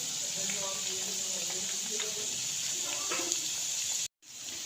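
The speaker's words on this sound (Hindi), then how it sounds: "देखिए मीडियम आंच में मैं इसको फ्राई कर रही हूँ" Potato balls frying in oil over medium heat, a steady bright sizzle with faint crackles throughout, fairly soft, and a short cut-out near the end.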